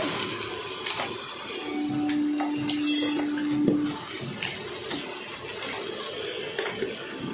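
Hot water poured onto frying spices with turmeric, coriander, cumin and chilli powder in a pan, a burst of hissing and bubbling with light clinks of a utensil against the pan, then settling into a softer sizzle.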